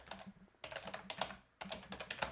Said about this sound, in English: oops, my keyboard.